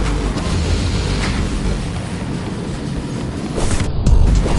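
A train rolls into a station in the video game Ghostrunner, a steady broadband rumble and rattle that swells slightly louder toward the end, with no voices.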